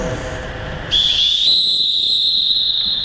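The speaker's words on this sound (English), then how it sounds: "whistle up" A sharp, high-pitched referee whistle blast at basketball training starts about a second in and holds steadily to the end, loud and close, over faint background noise.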